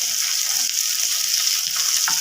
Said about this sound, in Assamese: মই এতিয়া ফ্ৰাই অকণমান চেলো ফ্ৰাই কৰিম বেছি কৰিব নালাগে